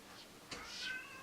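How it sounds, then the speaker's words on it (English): A pet cat meows indoors from just outside a closed room, a single faint drawn-out call under quiet room tone, far off and muffled. "Sorry if you can hear my cat meowing"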